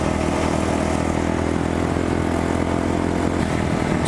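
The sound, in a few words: Kawasaki Ninja 400 motorcycle engine riding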